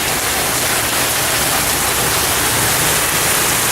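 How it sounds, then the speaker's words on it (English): Heavy rain during a big storm, a dense steady broadband hiss that stays loud and even throughout with no voices heard. "Rain."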